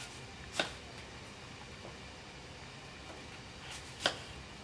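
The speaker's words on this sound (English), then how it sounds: "So I'm just going to cut some slices." A knife slices a Fuji apple on a cutting board, giving two separate soft chopping thuds several seconds apart in a quiet kitchen.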